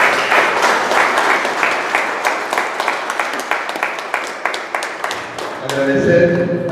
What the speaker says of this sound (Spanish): Un fuerte aplauso de reconocimiento